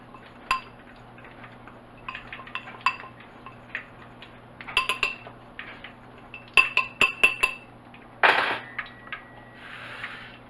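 Cornstarch and chicken livers are stirred in a glass dish, with scattered clinks and scrapes of a utensil against the dish, some in quick clusters, plus a brief louder scrape near the end.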